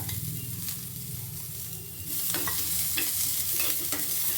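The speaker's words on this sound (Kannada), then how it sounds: "ಫ್ರೈ ಮಾಡೋದಕ್ಕೆ ಶುಂಠಿ ಮತ್ತು ಬೆಳ್ಳುಳ್ಳಿ ಹಾಕ್ಕೊಳ್ತಾ ಇದ್ದೀನಿ" Ginger and garlic frying in a pan for paya soup, a steady sizzle that grows louder partway through, with occasional stirring scrapes and no talking.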